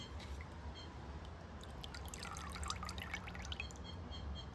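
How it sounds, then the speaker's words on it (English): Gasoline trickles into a container of engine oil to thin it, a soft steady pour heard alone at low level, with faint splashing midway. "I put a couple ounces of gasoline in there to thin it out."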